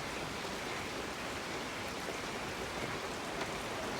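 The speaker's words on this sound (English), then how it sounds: "starting to get a little rain in here." Steady rain falling outdoors during Hurricane Idalia, a dense continuous hiss of drops on surfaces at even loudness throughout, with no voices.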